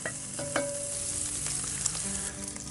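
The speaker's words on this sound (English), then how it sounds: "Let's go ahead and brown this bacon off a little bit and get that rendering." Bacon browning in a pan for a smoked turkey white chili, a steady crackling sizzle with a few sharp pops and faint scraping, close up and with no talking.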